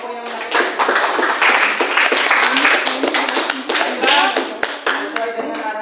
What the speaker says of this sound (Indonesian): Sebelumnya berikan tepuk tangan dulu untuk kelompok yang